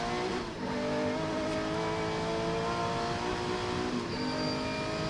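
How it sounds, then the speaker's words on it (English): Onboard audio from an old Porsche rally car on a wet track, its engine droning loudly and steadily with harmonic tones shifting as it changes gears, with no talking. "Oh my God, you hear the gearing?"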